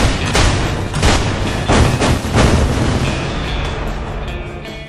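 Explosions tear apart buildings in the video game Battlefield: Bad Company, several heavy booms and crashing bursts in the first half, then fading debris rumble and a thin ringing tail.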